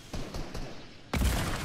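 Gunfire in the Fortnite video game: several distant muffled shots in a loose rhythm, then a louder, denser burst of close fire that keeps going to the end, with no talking.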